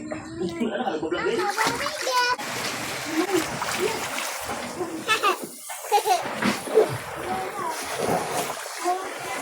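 Water splashes in a tub as young children chatter and laugh, the splashing coming in bursts between their voices.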